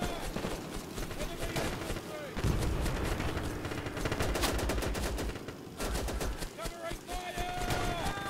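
Rapid gunfire crackles through a battle in the Easy Red 2 video game, set at Hill 170 in Burma in 1945, with dense bursts of rifle and machine-gun shots near and far. Short pauses break the firing.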